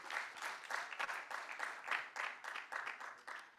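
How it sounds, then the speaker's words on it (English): A room of people applauds the KwaZulu-Natal Premier at a formal address, producing a steady, moderately loud run of many hands clapping for a few seconds. "Please let's clap for him."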